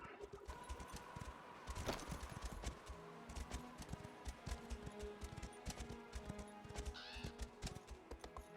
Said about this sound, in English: I've got the Imperial horse.